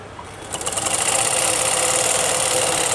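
A sewing machine stitches suit fabric, starting after a brief pause and settling into a loud, fast, steady mechanical whirring with a rapid rhythmic pulse, close by and without voices.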